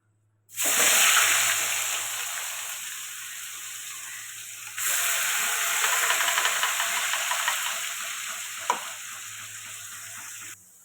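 Onion paste hits hot oil already tempered with cloves, cardamom and bay leaf for a mutton curry, a loud steady sizzle that flares up again midway, with occasional stirring scrapes and a small clack.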